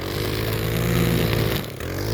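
A string trimmer runs steadily at high revs while cutting a two-acre lawn, a continuous buzzing engine drone that dips briefly near the end before picking back up.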